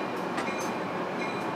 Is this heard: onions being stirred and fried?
no